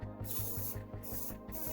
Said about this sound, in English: I think I should spray it from like a foot back or so.